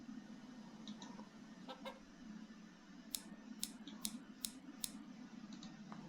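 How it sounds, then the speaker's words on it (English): Hen clucking in a point-and-click adventure game, a few short sharp clucks in a quick burst midway, set over a low steady ambient drone. "lock up that poor hen?"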